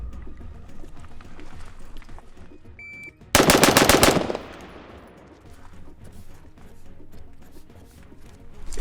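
Six shots fired in quick succession at a target 7 yards away with an EOTech-sighted gun, a loud, sharp burst of about a second, followed by quieter outdoor ambience.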